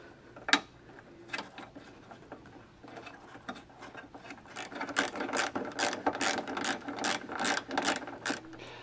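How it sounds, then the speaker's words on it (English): A bolt is ratcheted back in while reassembling the EVAP vapor canister on a 1992–1994 Ford Crown Victoria, giving quick runs of sharp mechanical clicks that grow denser and louder in the second half, heard up close with no talking. "So I'm going to go ahead and cinch it back together. Go ahead and put this bolt back in."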